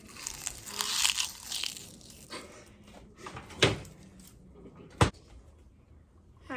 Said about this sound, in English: Listen to that good crunch